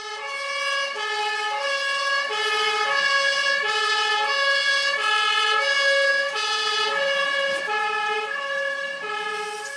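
A fire engine siren sounds on a model railway layout, sending out a clear, loud two-tone wail that alternates evenly and repeats throughout, close by and alone.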